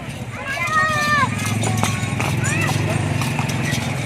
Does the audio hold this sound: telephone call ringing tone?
no